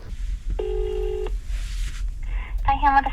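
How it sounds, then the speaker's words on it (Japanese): Phone tones while calling an insurer or car dealer about a kei camper's windshield cracked by a flying stone: a steady two-tone beep, then a rapid warbling ring, over low rumble in a car. "ちょっと保険屋さんとか車屋さんで電話してみます。"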